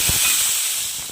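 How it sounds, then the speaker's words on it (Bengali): Five-spice and dried chilli hit hot oil for a chutney tempering, giving a loud, continuous hiss that fades slightly over its brief span. "এখানে চাটনিটা বসিয়ে দিলাম, 5 ফোড়ন, শুকনো লঙ্কা দিয়ে ফোড়ন দিয়ে।"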